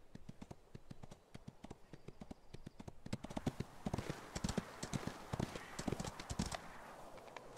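Horse hooves clip-clop in the Ostwind video game, a brisk run of quick, even hoof taps that grows louder and busier midway, heard alone.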